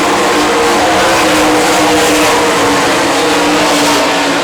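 Sprint cars race around the I-96 Speedway with a continuous, loud engine roar and revving, several machines blending into one sustained howl heard trackside, no voices audible over it.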